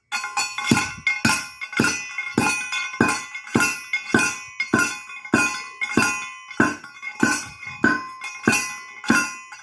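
A small crusher running on pieces of gold ore, sounding as a rapid series of loud, ringing metallic clinks and impacts at a fairly steady rhythm, close up and continuous with no talking.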